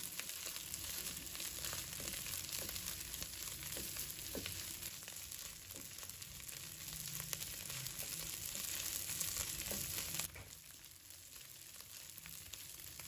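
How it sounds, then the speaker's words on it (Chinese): Soy sauce fried rice with egg and scallions sizzles steadily in a hot wok as it is stir-fried, a loud continuous frying hiss broken by occasional scraping stirs, with no talking. "再把鸡蛋倒入来，葱花也加进来，继续翻炒均匀。"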